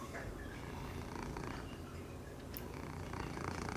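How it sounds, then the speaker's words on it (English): A kitten purrs softly up close in a continuous, low rumble. The purr stays quiet and even throughout, with faint handling noise around it. "You purring for us, Crow?"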